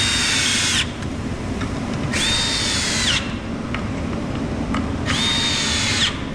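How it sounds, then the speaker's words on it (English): A power drill drives a screw into a wooden tote storage rack in three loud, close whirring bursts, each ending in a short rising whine and separated by brief pauses. "let's go back and re-screw this in"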